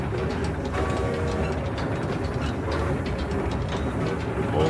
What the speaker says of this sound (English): Old-fashioned steam train, I love that still.